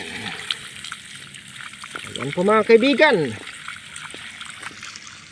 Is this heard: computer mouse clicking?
no